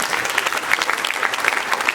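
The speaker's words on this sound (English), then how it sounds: "So give yourselves a round of applause." Dense, lively clapping from students at a prep school awards ceremony, a loud crowd of hands with scattered sharper claps, close and without talk.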